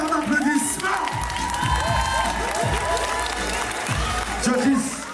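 A crowd at a dancehall 2vs2 dance battle claps, cheers and whoops loudly, with shouts rising and falling over steady applause and a surge of noise near the end.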